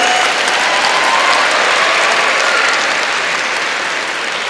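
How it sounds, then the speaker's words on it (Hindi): A dense burst of audience applause at a school education function, steady and loud throughout with many hands clapping together, no speech over it. "तो लड़कों के लिए एक बार ताली होनी चाहिए।"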